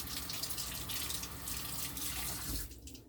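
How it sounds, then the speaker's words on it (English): Hands being washed under a running kitchen tap while baking Dutch apple bread, a steady close rush of water splashing into the sink. "Actually, I'm going to wash my hands real quick."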